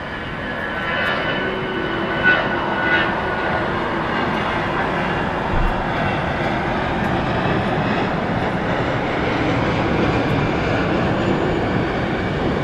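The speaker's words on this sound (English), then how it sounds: "There you had Allegiant Air Flight 782. It's going to Bentonville, Arkansas, an Airbus A319." An Allegiant Air Airbus A319 jet airliner at LAX, bound for Bentonville, Arkansas, gives a broad, steady engine roar and rushing rumble that holds at a constant, moderately loud level for the whole stretch, with no talk over it.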